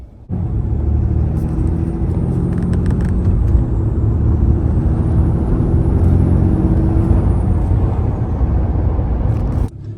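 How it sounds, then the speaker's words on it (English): A 2022 Ram 3500 Cummins diesel with an S&B cold air intake spools its turbo, a thin whistle rising and falling above a loud, steady engine rumble, heard up close without talk. "So you could definitely hear the turbo spooling a lot louder now compared to the stock airbox"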